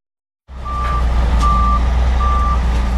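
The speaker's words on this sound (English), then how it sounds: "in contrast to the usual bleeping sound" A vehicle engine rumbles as a conventional reversing alarm beeps in steady, evenly spaced tones.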